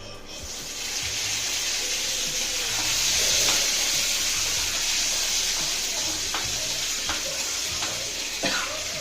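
Curry leaves hit hot oil in a pan while making a yogurt chutney, setting off a loud, continuous crackling sizzle that swells briefly and holds steady, with a few faint taps.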